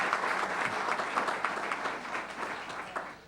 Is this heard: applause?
yes